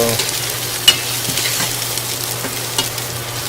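Carrot, cauliflower, turnip and chili pieces for pickle fry in hot oil, a close, steady sizzle with a few sharp clinks of stirring.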